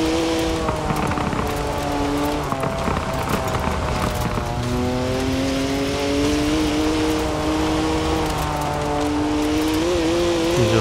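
A 2011 Koenigsegg Agera in Forza Horizon 4 drives with a loud, sustained engine drone whose pitch climbs and falls as it accelerates and shifts, over a gritty road and tire rumble, with no talking.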